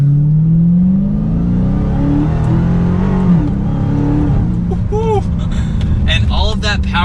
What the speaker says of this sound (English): it seems to be hooking for the accelerations that I'm throwing at it